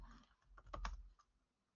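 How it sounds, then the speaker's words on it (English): A short burst of keystrokes on a computer keyboard, a handful of quick clicks clustered within about a second, faint and close, with no talking. "I can even type that in there."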